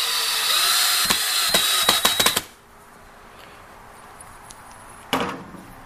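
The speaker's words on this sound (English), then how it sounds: "a power drill to sink that screw" A power drill drives a screw into a wooden bench, a loud close whir lasting about two seconds with stuttering bursts as the bit slips, then near quiet and one short sharp knock.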